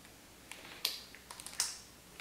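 Calculator keys pressed while entering a trig calculation give a few soft, faint clicks, scattered irregularly and heard alone in a quiet room.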